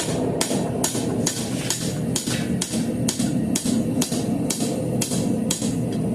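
A hammer strikes metal on an anvil in a blacksmithing lesson, about thirteen loud, close blows in a steady, even rhythm with no talking.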